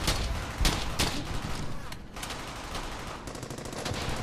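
Machine gun fire in the World War II shooter game Brothers in Arms: Hell's Highway, rapid bursts of sharp shots with a brief lull midway, then a fast steady rattle, loud amid battle noise.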